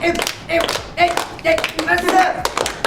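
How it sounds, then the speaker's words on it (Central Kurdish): Children clap at a kids' competition, with quick bursts of hand claps mixed in with an adult voice talking over them, close and fairly loud. "دەی چەپڵەکانتان"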